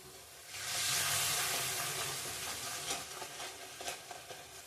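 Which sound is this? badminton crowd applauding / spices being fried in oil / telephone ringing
spices being fried in oil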